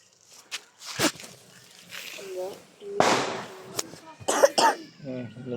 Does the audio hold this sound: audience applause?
no